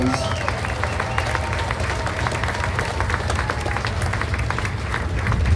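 A grandstand crowd at a fair stock-car speedway in Belleville, Illinois claps steadily, a dense, continuous patter of applause with crowd murmur throughout.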